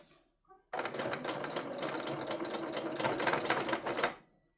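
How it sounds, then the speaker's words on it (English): A sewing machine runs steadily for a few seconds while stitching around the top of a tote bag, starting and stopping abruptly, with a few faint handling noises just before. "I'm just using the handle on my sewing machine to go over that, and then I can continue on as normal."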